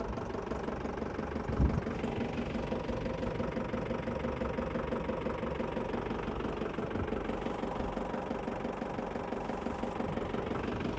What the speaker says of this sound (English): I'll have to turn the engine on because its battery's dead.